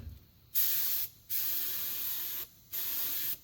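A paint sprayer fed by a small-tank compressor hisses in three strong bursts with short pauses between them while painting a steel building outdoors, close and loud with no talk.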